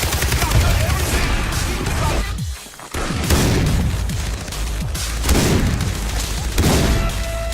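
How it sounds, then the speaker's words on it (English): Shotgun blasts in Far Cry 3 multiplayer: loud, meaty booming shots repeat every second or so over a steady backdrop of gunfire, with one brief lull partway through. "Man, that shotgun just sends shivers down your spine."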